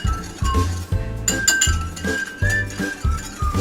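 A spoon stirring sweet and sour sauce with soy sauce in a glass bowl, rhythmic loud clinks against the glass repeating every half second or so, close and without talk.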